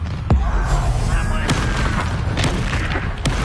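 Spell blasts from Hogwarts Legacy gameplay, including the Confringo explosion, hit as several sharp booms and impacts over a dense, loud combat soundscape, with a voice calling out incantations.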